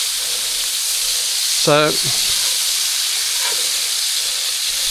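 Bacon on a cast iron griddle over an open fire gives a loud, constant hiss and sizzle throughout, and a voice briefly cuts in over it.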